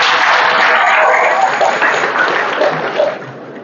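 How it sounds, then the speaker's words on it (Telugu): An audience applauds teachers being honoured at a hospital-sponsored felicitation ceremony; a dense, steady wash of clapping from many hands fills the hall, easing off slightly near the end. "గట్టిగా అందరం చప్పట్లు కొట్టాలి"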